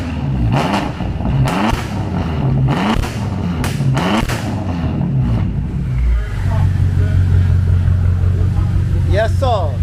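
A 1200 hp BMW X6M engine fires up for the first time after a build and revs hard in loud, repeated bursts, then settles into a rough, throbbing idle, with people talking over it nearby.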